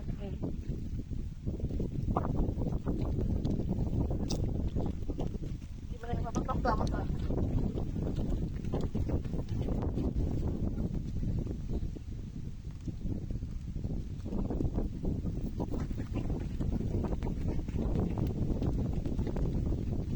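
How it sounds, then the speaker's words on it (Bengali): Strong wind buffets a moving ride along a winding hillside route at Rangamati, a loud, continuous, rough rumble with gusty surges that fills the whole stretch and stays close to the microphone. "অনেক বাতাস দিচ্ছে"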